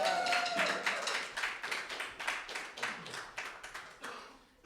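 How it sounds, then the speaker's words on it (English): Small-audience clapping for Nicole Sweet at a music and poetry event, a modest group of distinct, fairly close hand claps that slowly thin out over a few seconds. "Round of applause for Nicole Sweet, please."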